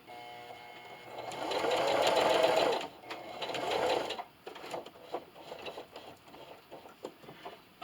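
Sewing machine top stitching a scrappy patch bathmat, a close steady whir for about three seconds, a short second run, then scattered slow single stitches and ticks.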